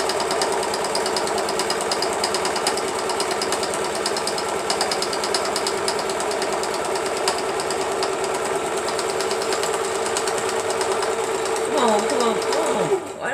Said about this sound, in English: Alright, we're going to sew them down.